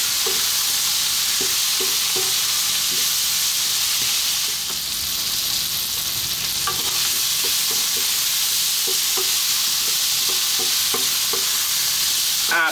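Pumpkin fried rice stir-fries over high heat, giving a steady, loud sizzle throughout, with light scraping and clinking as the food is kept moving in the pan.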